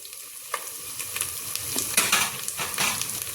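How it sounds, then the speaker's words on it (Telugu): Cashews stirred and frying in a pan with ginger-garlic paste and mint, a soft sizzle under repeated spoon scrapes and light clinks against the pan. "తర్వాత కాజు కూడా వేపాలి."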